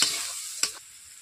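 Tomato paste hitting hot spices in a wok for a Bengali katla fish curry, a loud burst of sizzle at the start and a second sharp hiss midway, then a quieter steady frying.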